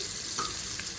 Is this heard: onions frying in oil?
yes